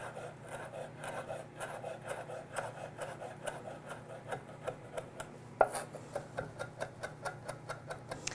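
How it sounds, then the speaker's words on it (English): A knife mincing fresh rosemary on a board: quick rhythmic chopping taps, steady and regular, close but fairly quiet over a low hum, with one sharper knock midway. "I've already removed the woodier stem off that rosemary, and I'm going to make sure that I mince this kind of pretty fine."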